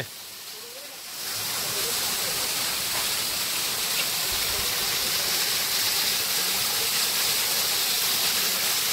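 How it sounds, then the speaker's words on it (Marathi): A waterfall near a village home in Ratnagiri roars as a steady, even rush of water that swells in after about a second and stays constant and full for the rest of the clip. "हे धबधबे आमचं गाव"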